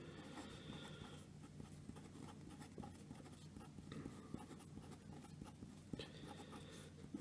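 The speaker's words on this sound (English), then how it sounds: "So I'm just going to write this out more clearly over here." Pen or pencil writing out maths working by hand on paper, a quiet steady scratching that runs throughout at low level, close by.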